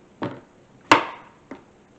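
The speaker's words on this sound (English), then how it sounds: "my plan is to take this zucchini and maybe just chop it up" A small knife chops through zucchini on a cutting board with three separate sharp thunks, the middle one loudest, close by and with no talking.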